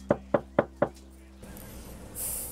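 Four evenly spaced, gentle knocks on a bedroom door, close and distinct, followed by quiet room tone and a soft hiss.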